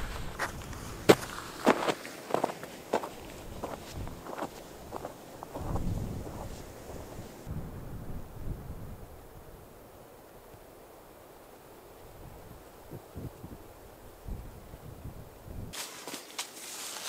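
Wind gusts buffet a hiker carrying a backpack on a cold trek across dry, arid terrain, rising and falling in rough bursts alongside crunching footsteps, with calmer stretches in between and no talking.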